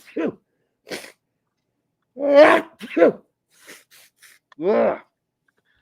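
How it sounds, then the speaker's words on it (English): Close, indoor sneezes from a man amid short bursts of his own breathy sounds and exclamations, several sharp separate bursts with silence between them. "I'm sneezing"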